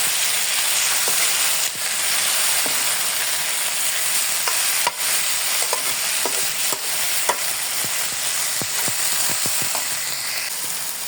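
Smoked fish (tinapa) sizzles loudly in a pan with softened tomatoes, a constant bright hiss of frying broken by scattered scraping taps of stirring, close up and uninterrupted by speech.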